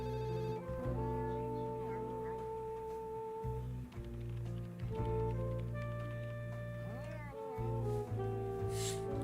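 An angry, yowling cat-like cry from the Duck Detective video game rises over sustained tonal game music, wavering and loud, with no talk over it.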